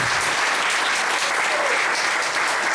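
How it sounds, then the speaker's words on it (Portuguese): An audience applauds a guest speaker at the close of a talk on Spiritism, a steady wash of many hands clapping, loud and continuous throughout with no voices over it. "uma salva de palmas para a Dona Neide"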